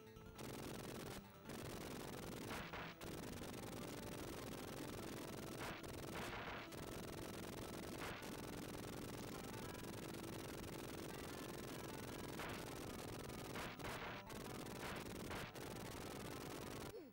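Rapid tank gunfire and explosions from the Sega Genesis game Rambo III, a loud, continuous barrage of bursts with brief gaps, steady throughout.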